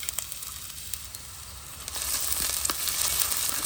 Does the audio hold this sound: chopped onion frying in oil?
yes